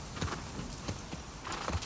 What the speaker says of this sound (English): I'm just going to ride the horse around